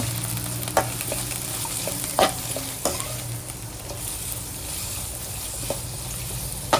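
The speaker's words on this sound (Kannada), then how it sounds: "ಇವಾಗ ನೋಡಿ ಈರುಳ್ಳಿ ಚೆನ್ನಾಗಿ ಫ್ರೈ ಆಗ್ತಾ ಇದೆ" Onions sizzle steadily as they fry in a pan, with sharp scraping clicks from a stirring spoon at irregular intervals, close and alone with no voices.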